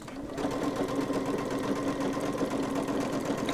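Sewing machine running steadily as it stitches over a seam on a two-tone tote bag, a continuous close whirring hum with fast rhythmic needle clatter.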